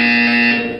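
A loud, steady electronic buzzer tone in the Portal 2 video game, sounding as one sustained drone that holds level and then tapers slightly at the end.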